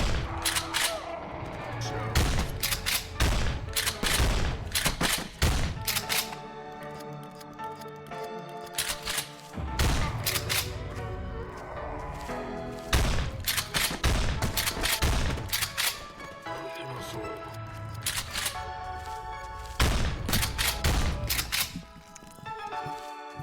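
Gunfire in the horror video game Dread X Collection 2, repeated sharp loud shots in bursts and rapid volleys across the whole stretch, mixed with game music and occasional talk.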